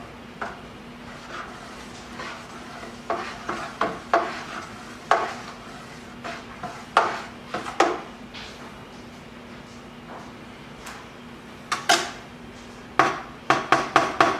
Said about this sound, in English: Go ahead and stir this up and see where we are.